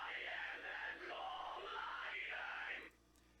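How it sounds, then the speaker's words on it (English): A homemade crowd effect built by stretching a recording in Audacity: a dense, steady wash of blended yelling and cheering voices that holds for almost three seconds, then cuts off abruptly into near silence. "that is my cheap way of adding a crowd sound effect"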